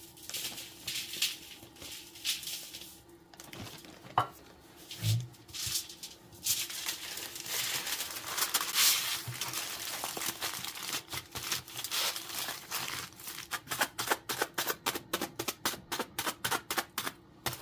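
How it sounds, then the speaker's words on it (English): Salt-soaked pottery is wrapped in tin foil, with crinkling, crumpling foil in irregular bursts and a run of quick rhythmic crackles near the end, close and fairly quiet with no talking. "I'm going to wrap it up in the tin foil and see if that is a better way to make that all happen"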